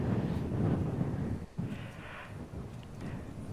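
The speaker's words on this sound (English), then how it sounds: "It looks windy." Wind buffets the microphone at the SpaceX Starship launch site, a steady low rumbling roar with gusty surges and a brief dip midway, no voices present.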